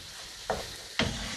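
Mushrooms and onion fry in a pan for a creamy mushroom sauce, with a soft sizzle under two quick stirring scrapes about half a second apart.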